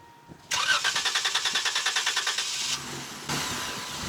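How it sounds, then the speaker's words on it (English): An off-road vehicle's engine cranks on a desert trail in Johnson Valley, California, with a fast, even whirring chug like a fuel pump. The sound is loud and close, briefly catches, then keeps turning over. "Almost sounds like fuel pump, doesn't it?"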